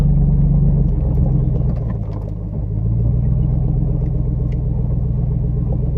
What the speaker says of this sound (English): I wonder if I can crawl out of here in two-wheel drive